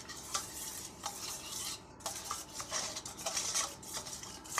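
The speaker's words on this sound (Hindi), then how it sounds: "चमचे की मदद से अच्छे से घोलेंगे इसको।" A spoon scrapes and clinks around a bowl as orange food colour is mixed into a liquid for a potato dish, with quick irregular strokes, close and fairly quiet, and no talking.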